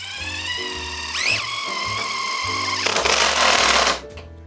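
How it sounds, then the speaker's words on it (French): A cordless screwdriver drives a self-drilling screw through a metal stud into plasterboard during a bathroom renovation, a loud close whirring motor that pitches up as it bites, then grinds through the metal before abruptly stopping. "La pointe de perçage va traverser le montant et je laisse la visseuse faire le boulot."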